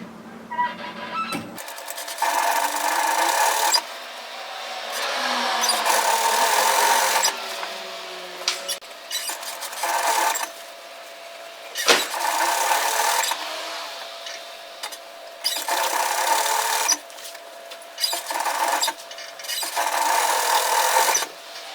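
Close sewing machine stitching binding onto a dress, running in repeated bursts of rapid needle chatter and motor whir separated by short pauses, fairly loud with no talking.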